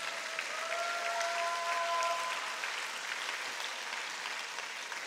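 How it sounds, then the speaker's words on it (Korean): A church congregation at a Korean joint worship prayer service breaks into sustained applause, a steady wash of clapping heard from some distance that holds for about five seconds. "박수와 기도를 올려드리면 좋겠습니다."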